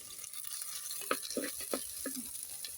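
Mustard seeds and finely chopped onions sizzle quietly in a pan for crab curry, with a soft steady frying hiss and a few stirring clicks and scrapes.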